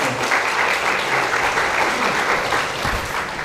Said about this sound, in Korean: 그렇게 해서 우리 한번 박수 해주실래요?